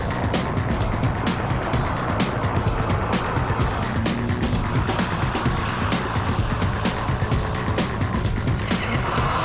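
A Ferrari 575 M Maranello drives on a wet road, its engine droning steadily over constant tyre hiss and spray, loud and close throughout with no break.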